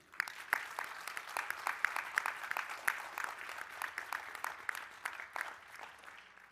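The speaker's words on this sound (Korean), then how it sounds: "여러분, 우리 함께 큰 자축의 박수를 부탁드립니다" Audience applause at a Rotary district conference in the Grand Hyatt Seoul hall, a sustained burst of many hands clapping with dense overlapping claps, moderately loud and steady throughout.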